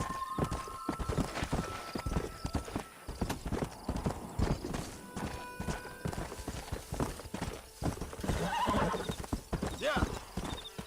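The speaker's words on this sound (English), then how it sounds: "Oh, shut up, horse." Horse galloping in Red Dead Redemption on PS3, rapid rhythmic hoofbeats with several whinnies and neighs, while a player talks over the game sounds.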